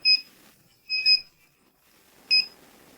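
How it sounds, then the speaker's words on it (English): A handheld gas leak detector for gas pipes emits short, shrill electronic beeps, a single chirp, then a quick double, then another single, spaced unevenly over quiet background. "The device then starts to beep"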